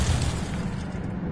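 A fiery burst from the Incendio fire spell in a Harry Potter video game: a dense, roaring whoosh with low rumble that stays loud and steady through the short moment, with no talk over it.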